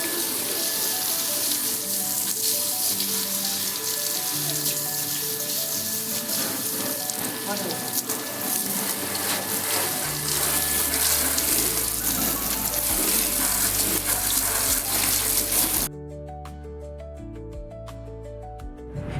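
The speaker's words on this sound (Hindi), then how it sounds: "इन्होंने स्कूटी पर पहले पानी मारकर अब इसमें साबुन लगा रहे थे।" Water is splashed over a scooter being washed, a continuous hiss and spray of running water under music, which fades out near the end.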